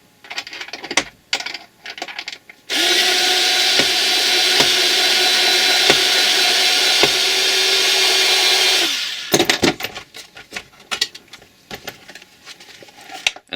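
A power drill runs steadily for about six seconds, drilling out a reverse-thread screw on an 03-05 Subaru Forester headlight, close and loud, with brief handling clicks before and after.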